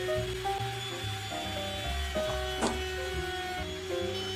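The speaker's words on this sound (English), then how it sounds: "Now I'm routing it, putting a half round on there." Wood router shaping a half-round edge on a handmade jewelry box, a steady close whine with shifting tones under a brief scraping burst, no talking.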